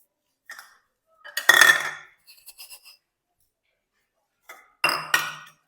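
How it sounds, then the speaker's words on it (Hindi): A spoon scrapes and clinks against a metal bowl while sugar and ground coconut are mixed into a laddu base. Two main bursts of scraping are separated by lighter taps and a pause. "तो मैं अब इसमें मिलाऊंगी बूरा और साथ में मिलाऊंगी मेरे ग्राइंड किया हुआ नारियल"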